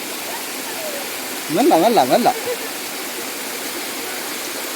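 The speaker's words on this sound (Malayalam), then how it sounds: "ഈ ഒരു വലിയ പാറേൻ്റെ അടിയിലേക്കൂടെയാണ് വെള്ളം വരുന്നത്." At Kanayi Kanam waterfall, water rushes beneath a large rock in a constant broad roar, close and loud, while a voice briefly speaks over it.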